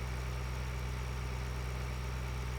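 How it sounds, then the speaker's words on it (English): Older tractor engine running in the Farming Simulator 2013 game, a steady, low, droning idle with constant mechanical vibration, even and unbroken throughout at a moderate level. "That is technically an older tractor, probably around the same age to be honest."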